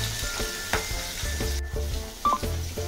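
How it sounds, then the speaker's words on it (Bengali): Bhetki fish frying in mustard oil in a wok: a loud, continuous close-up sizzle with a few brief crackling bursts and light utensil touches. "কড়াই তেল দিয়ে ভেজে নিচ্ছি।"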